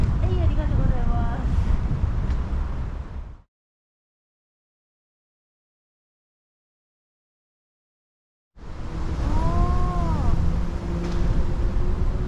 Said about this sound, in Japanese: 今日はいい風吹いてます ね